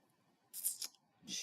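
Cardstock is cut for a handmade card, making two short crisp cutting bursts about half a second apart, close and fairly quiet.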